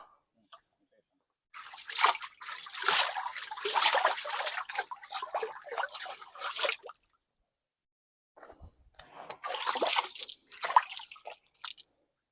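Cold water in a Devunigutta temple cave passage trickles and splashes in two separate bursts, with a quiet pause between them. The sound is close and moderately loud.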